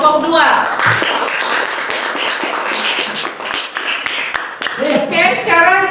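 A classroom applauds a student group after their presentation, with a dense burst of clapping in the middle and people talking at the start and end.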